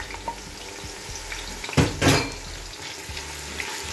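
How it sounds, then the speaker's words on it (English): Chopped red onions frying in oil in a pan: a steady close crackle and sizzle, with a couple of louder clatters of a utensil against the pan midway and no talking. "please add in some chopped onions. I'm using red onions for this. You can use white if you want. And fry for about 1 minute 30 seconds"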